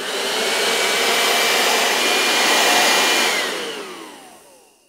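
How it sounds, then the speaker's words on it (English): A vacuum cleaner runs with a steady, loud broadband whoosh and high whine, then fades toward the end; no one speaks over it. "Can you make a noise like a vacuum cleaner?"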